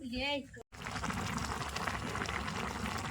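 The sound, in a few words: fish curry boiling in a pot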